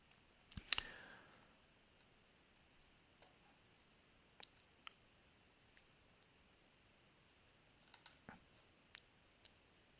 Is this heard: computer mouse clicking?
yes